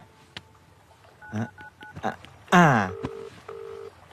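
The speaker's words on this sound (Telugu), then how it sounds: "రింగ్ అవుతుంది" A phone is dialed with a few short beeping keypad tones. The call then rings back with two steady buzzing tones, and a brief voice is heard in between.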